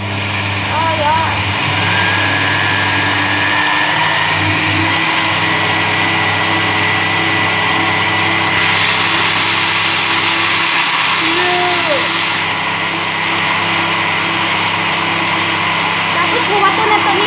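A kitchen blender runs while rice puto batter is being made, a steady loud whirring drone throughout, with a person talking over it.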